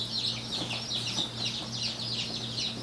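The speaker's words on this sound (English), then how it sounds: "today we've purchased 31 baby chicks" Many small baby chicks, including golden laced Wyandottes, peep in a rapid, overlapping chorus, high-pitched and fairly close, over a low steady hum.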